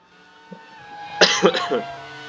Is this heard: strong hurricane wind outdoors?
no